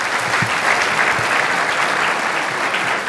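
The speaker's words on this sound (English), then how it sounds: "Give us a big round of applause for that." Audience at a talk breaking into sustained applause, a full, even roar of many hands clapping at steady volume throughout.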